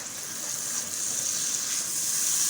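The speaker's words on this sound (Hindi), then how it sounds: "हम इनको खूब अच्छे तरीके से भून लेते हैं ताकि प्याज और जो टमाटर हैं वो गल जाए" Onions and tomatoes fry with goat trotters for paya, giving a steady, close, bright sizzle that hisses without pause and swells slightly toward the end, with no talking.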